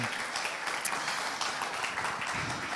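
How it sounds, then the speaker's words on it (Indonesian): Applause from a church audience at a Christmas youth celebration, a steady dense wash of many hands clapping continuously from start to finish with no break. "Berikan tepuk tangan buat Tuhan kita yang dahsyat."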